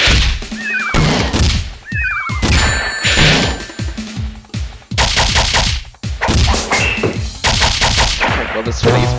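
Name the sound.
bombs exploding in Sonic the Fighters video game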